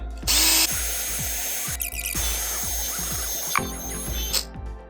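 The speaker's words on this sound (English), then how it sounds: "got the mother's drill bit, so put that all over and then just let it rip" A power drill whirs steadily with a polishing attachment on an Avanti Aggressor Pro bicycle part, its motor droning nearby, with a short higher-pitched burst near the start and slight changes in load as it works.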